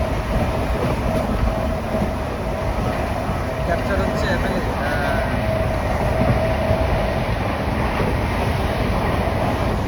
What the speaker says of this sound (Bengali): ট্রেন তো বড় স্পিডে চলছে গাইস